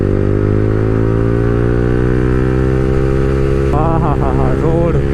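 A motorcycle fitted with an aftermarket exhaust runs close by with a loud, steady low engine drone, and a brief rising rev near the end.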